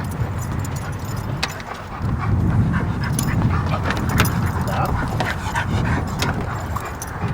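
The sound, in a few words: excited large dogs panting and whimpering in a car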